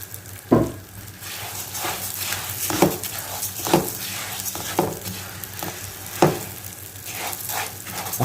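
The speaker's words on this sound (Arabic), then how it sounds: "احمره كويس لحد ما يبقى لونه ذهبي." Lisan asfour orzo pasta toasting in a pan until golden, a continuous close sizzle broken by repeated scraping stirs and clinks of a utensil against the pan.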